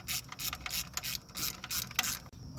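Clamp bolt being removed from a fuel filter housing on an IH 3588 tractor engine, with rapid ratchet clicking in quick bursts and brief pauses, close and fairly quiet.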